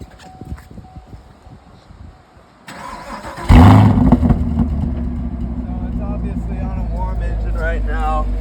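Chevrolet Camaro SS V8 starting up with track mode exhaust: a starter whir, then a loud bark as the engine catches and settles into a deep, rumbling idle, with someone talking before and over it.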